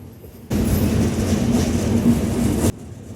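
The Chilahati Express train roars across a rail bridge in a loud, steady rumbling rush that begins and ends abruptly, with a faint hum before and after.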